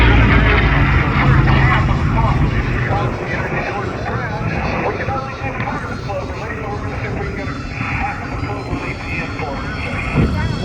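A Goodyear FG-1D Corsair performs aerobatic rolls at an air show at the Vidalia Onion Festival, its propeller engine a steady, loud roar throughout, with no talk.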